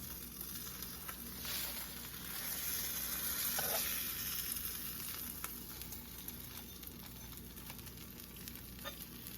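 A tuna melt frying in a pan after the flip, a steady close crackling sizzle that swells slightly midway and continues without pause, no voices.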